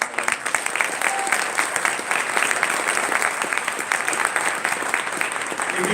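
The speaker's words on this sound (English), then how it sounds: "Let's give a round of applause to Darlene, Craig, and their entire team for this hard-working breakfast." An audience at a community breakfast applauds with dense, sustained clapping that fills the room evenly for several seconds.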